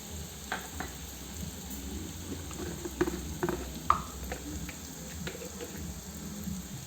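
Onions sautéing in a pan as spice powders go in, a low steady sizzle with scattered clinks and scrapes of a spoon, close and fairly quiet, no talking.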